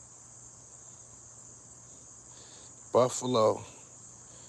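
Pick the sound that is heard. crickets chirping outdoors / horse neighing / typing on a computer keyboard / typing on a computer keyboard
crickets chirping outdoors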